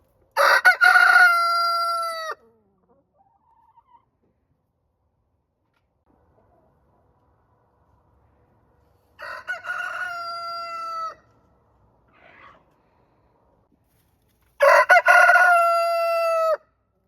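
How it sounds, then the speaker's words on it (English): A rooster crows loudly three times, spaced apart by long quiet gaps, with a faint cluck in between; no talking. "Hi, little chickens. Come on out."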